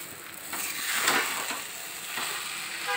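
Sabudana khichdi with crushed peanuts is stirred in a pan over a low flame, giving a steady, close sizzling hiss with soft swells of scraping.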